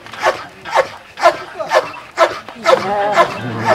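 A dog at a French gendarmerie canine training centre gives a series of short, rhythmic, close barks mixed with whimpers, while a person speaks over the sounds.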